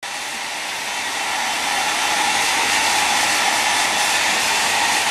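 A hair dryer blows a steady, loud, hissing stream of air while drying a freshly bathed dog, rising slightly at the start and then holding constant with no talking.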